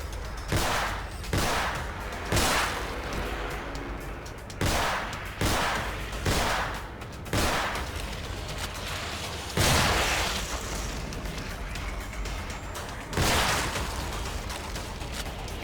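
Gunfire in The Evil Within while shooting enemies, a steady series of loud, sharp shots spaced about a second apart with a few faster pairs, over low game ambience.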